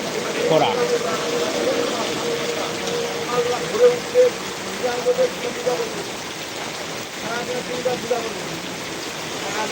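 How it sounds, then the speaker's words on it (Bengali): Heavy rain pours down steadily in a rural farming area, a dense continuous hiss and patter at close range with scattered louder splashes. A voice talks over it. "মাঝপথে ভীষণ বৃষ্টি ভীষণ বৃষ্টি আমরা দাঁড়ালাম"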